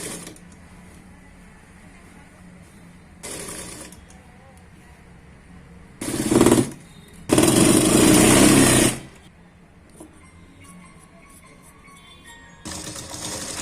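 Sewing machine stitching blouse fabric for a padded princess-cut blouse: short mechanical bursts at close range, one brief run followed by a longer, louder steady whir of about a second and a half, with quiet pauses and creaks between.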